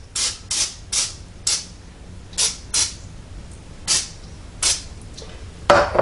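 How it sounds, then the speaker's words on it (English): Cooking-oil spray hits chicken wings in a NuWave countertop oven, a series of short hissing bursts in an uneven rhythm, close by and alone. "I'm just gonna spray any dry areas that I see"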